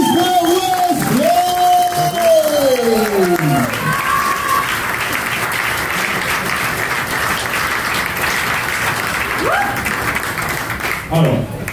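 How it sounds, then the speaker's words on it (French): Loud applause and cheering from an awards-ceremony audience greets a host as he is introduced on stage, with an announcer's voice and tonal music sweeping over the clapping for the first few seconds before the crowd noise carries on alone. "sous vos applaudissements"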